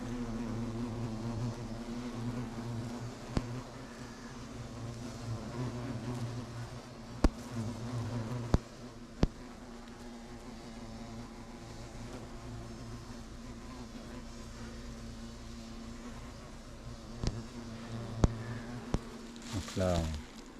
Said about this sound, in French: la ruche est hyper populeuse, avec un petit peu de navette d'abeilles de temps en temps